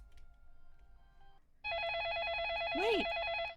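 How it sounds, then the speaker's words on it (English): A telephone rings with a steady warbling electronic tone that starts abruptly and holds loud and close, with a brief rising chirp over it near the end; no talk alongside. "we should pick up the phone"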